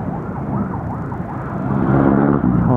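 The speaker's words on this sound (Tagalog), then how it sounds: "ang daming ambulansya, anong meron?" Ambulance sirens wail loudly with rising and falling tones, mixed with passing road traffic and a low motorcycle engine rumble.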